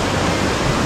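Rushing water on the Raging Rhino River water park ride makes a loud, close, continuous broadband roar with no breaks.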